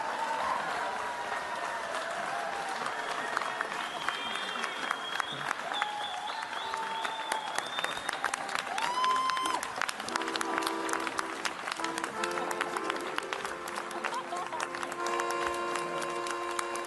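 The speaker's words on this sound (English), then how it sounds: "Feel free to applaud if you so choose." Audience in a lecture hall applauding at the Ig Nobel Prize ceremony, a sustained wash of clapping at moderate distance with scattered bright whistly tones, no talking.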